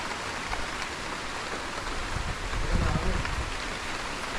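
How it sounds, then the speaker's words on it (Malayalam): Heavy rain patters steadily on surfaces, with a soft low rumble swelling briefly in the middle; no one speaks. "നല്ല മഴയുണ്ട്."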